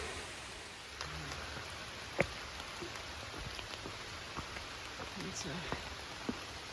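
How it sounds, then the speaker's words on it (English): Steady rain falls on a hiking trail along the Appalachian Trail, a soft wash of noise with scattered drips and a few louder close taps, no voices over it. "Right now it's just trudging along in the rain."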